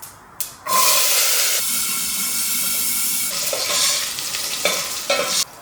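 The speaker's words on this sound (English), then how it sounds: "in a pot with a tablespoon of oil, mustard seeds, shallot onions" Mustard seeds and shallots sizzle in a tablespoon of oil in a pot for sambar. A loud steady hiss starts abruptly after a brief quiet moment and carries on with a few sharper crackles and stirs near the end, with no talking.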